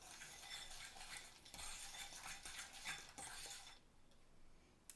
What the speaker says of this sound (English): And then go ahead and give that a good stir.